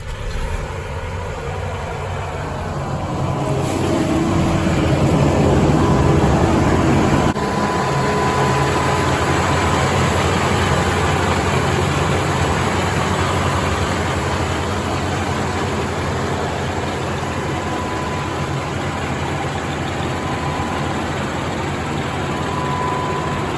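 An 18-liter John Deere engine running on fuel only, with no DEF, cranks over and catches a few seconds in, then settles into a loud, steady, close-up running drone that holds to the end.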